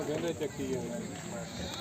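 A goat bleating at a village goat market, short bleats in quick succession under nearby talk, with market chatter around.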